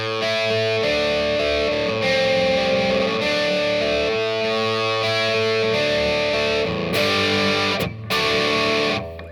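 Loud distorted electric guitar chords ring out steadily, with sustained, buzzing tones and a few brief string scrapes near the end.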